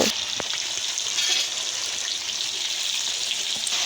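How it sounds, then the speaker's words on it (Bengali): Potato and eggplant pieces fry in hot mustard oil, giving a steady, close hiss of sizzling with a few faint clicks and scrapes throughout. "তেলের সাথে সুন্দর করে আমি আলু বেগুনটা ভেজে নেব"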